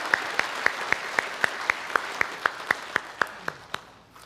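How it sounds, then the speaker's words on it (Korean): Church congregation claps in a slow, regular unison rhythm for the worship choir, about sixteen crisp claps that fade at the end. "우리 개일 찬양대 위해서 한번 격려의 박수로 또 축복해 주셨으면 감사하겠습니다"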